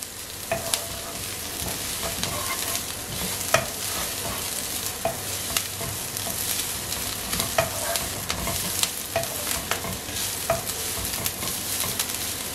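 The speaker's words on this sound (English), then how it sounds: "For another about 30 seconds, I am going to stir it." Egg chow mein mixture stirred in a hot frying pan, a steady loud sizzle with regular scraping strokes and small clicks of the utensil running throughout.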